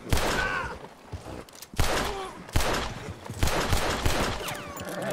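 Several loud gunshot bursts in a Red Dead Redemption 2 roleplay shootout in a Wild West setting, coming in clusters about a second apart, with a worn-out gun firing among the reports.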